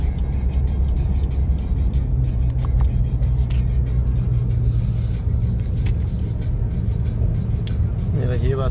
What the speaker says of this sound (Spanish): porque este carro va despacio